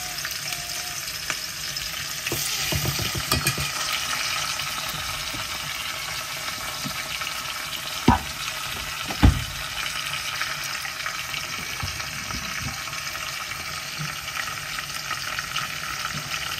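Khakhya fish sizzling steadily in hot oil with onion, bay leaf and garlic, a continuous crackling fry with a couple of sharp clinks of a utensil against the pan.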